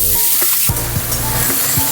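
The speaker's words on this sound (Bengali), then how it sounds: "এবার এই যে গোবিন্দভোগ চালটা আমি একটু ভেজে নেব।" Gobindobhog rice frying in a pan, a steady close sizzle with a few scraping stirs of a spatula breaking through, no voices.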